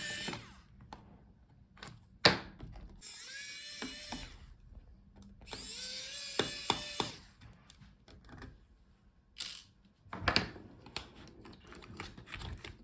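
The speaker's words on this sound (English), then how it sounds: "So unscrew the screws." Small screws being undone on an Aorus 15G laptop during a battery removal, heard as scattered faint clicks and scraping with a few sharper clinks and brief whirring squeals of a screwdriver, close up with no talking.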